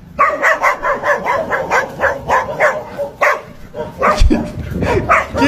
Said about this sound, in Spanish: muy normales los perros del barrio.